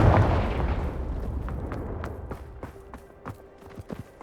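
A Confringo explosive spell goes off in Hogwarts Legacy: one loud, close burst that rings out and decays, followed by scattered light clicks and thuds with a faint steady hum beneath.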